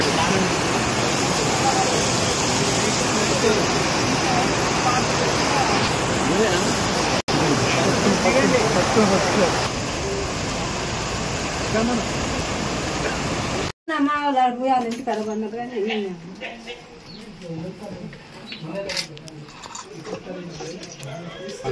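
Rushing floodwater of the Jampanna Vagu stream near Medaram in Tadvai mandal, a loud steady broadband roar that fills the first half, then drops behind a nearby voice speaking over fainter water.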